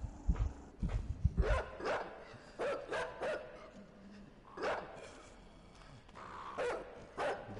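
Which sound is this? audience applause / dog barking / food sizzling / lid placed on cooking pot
dog barking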